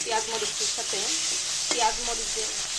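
Onion and green chilies fry in a pan with a bright, steady sizzle and a couple of quick stirring scrapes, close and fairly loud, with faint background voices.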